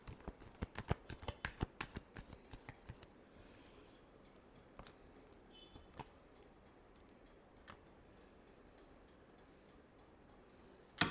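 Tarot cards riffled and shuffled in a quick burst of dense crisp ticks for about three seconds, then scattered soft card flicks in near silence, ending with a sharper snap.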